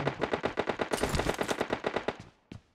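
An M4 rifle in the PUBG video game fires in rapid automatic bursts, sharp repeated cracks in a steady rhythm for over two seconds, then stops with a final shot.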